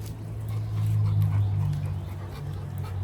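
XL Bully dogs, including a heavy female of about 100 pounds, pant close by with soft whimpers mixed in, the breathing steady and rhythmic and louder in the middle with no talking.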